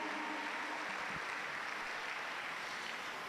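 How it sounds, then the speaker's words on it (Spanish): A church congregation applauds loudly and steadily, a dense wash of clapping that stays even throughout without any voices standing out. "Dale un aplauso fuerte a nuestro Dios, a Jesús."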